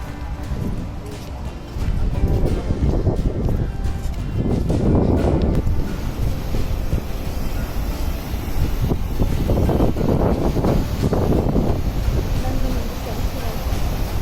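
At sea off the Udupi coast, a boat motors past with a low rumbling drone while strong wind buffets the microphone in heavy gusts, and voices murmur now and then.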